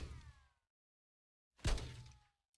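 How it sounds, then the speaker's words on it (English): Two separate impacts sound in near silence: a muffled thud with a ringing tail, then after a pause a sharper, louder bang, suggesting knocks on a door. "3 knocks again, louder, faster."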